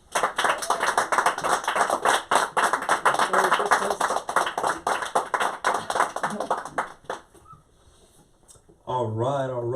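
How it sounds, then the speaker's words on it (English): An audience at a lounge season finale event claps together for several seconds in a brisk, lively burst, then fades out, with a voice and music starting afterward. "All right, one more round of applause for Thomas."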